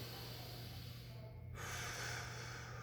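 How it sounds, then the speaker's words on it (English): Slow, deep breathing during a workout: a faint single inhale followed by a longer breathy exhale, close and quiet over a steady low hum. "Deep, slow breath in through the nose, out through the mouth"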